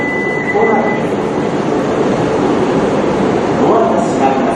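A Shinkansen bullet train rushes through a station platform with a loud, continuous rumbling roar and a brief high tone near the start, sustained close and heavy throughout.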